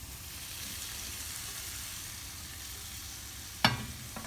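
Fried paneer added to a dhaba-style tomato masala sizzles steadily in the pan, a constant close hiss with one sharp clatter near the end.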